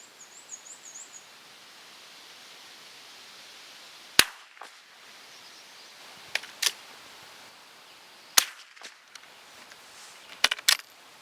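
Cooey Model 78 rifle firing high velocity rimfire ammunition outdoors on a windy day: several sharp, isolated cracks, some in quick pairs, spaced seconds apart over a soft wind hiss.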